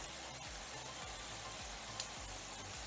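Shrimp sizzle steadily in a hot pan while being flipped, a constant bright frying hiss with a few soft clicks and taps over a low background hum.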